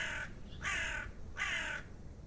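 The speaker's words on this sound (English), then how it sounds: "Nice crow sound." Three loud, harsh crow caws in the video game The Excavation of Hob's Barrow, evenly spaced over a graveyard scene with a low ambient rumble beneath, with no talk.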